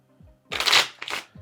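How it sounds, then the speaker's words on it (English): Two quick riffle shuffles of a deck of playing cards during a mind-reading magic performance, each a close, crisp burst of flapping card edges, the first longer, with soft low tones between. "you can do it however you want, and another riffle shuffle."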